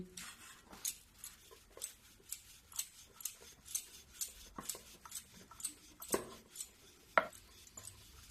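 Dough being rolled out with a rolling pin on a kitchen surface, giving a series of quiet, regular knocks and taps at a steady rhythm, close and faint, with no talking.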